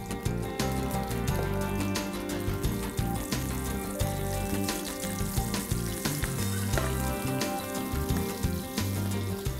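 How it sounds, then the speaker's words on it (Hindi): Mustard seeds and green chili crackle and sizzle in hot oil as a tempering for dal, a dense, steady spitting fry that carries on throughout with no talking. "ऑयल गर्म हो गया, इसके अंदर हम डालेंगे मस्टर्ड सीड्स. अब इसके अंदर हम डालेंगे थोड़ी सी ग्रीन चिली."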